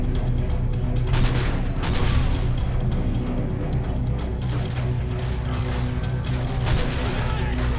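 Grenade blasts and gunfire in Call of Duty Modern Warfare 2 Special Ops, heavy booming explosions and rattling shots over a constant low rumble, with players talking.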